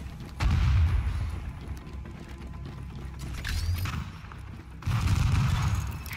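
Heavy artillery fire in The Division video game, bursts of deep rumbling blasts with mechanical clatter in between, two strong surges separated by a quieter stretch of rattling.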